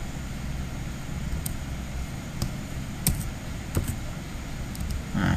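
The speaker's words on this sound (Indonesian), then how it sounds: "Kita tekan tombol tab, kemudian ketik misalnya" A handful of isolated computer keyboard key presses click at irregular intervals over a steady low background hum.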